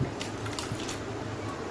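Water is stirred into leftover fermented rice for palaya soru, making soft, wet squishing and sloshing sounds in short, irregular bursts, close and fairly quiet.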